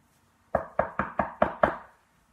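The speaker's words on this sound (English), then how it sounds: "Knock on wood." Six quick knocks on a wooden surface, evenly spaced in a brisk run, fairly close and with nothing else around them.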